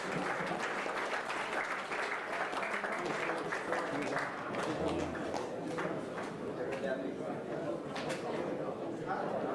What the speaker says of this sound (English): please a big round of applause for both the finals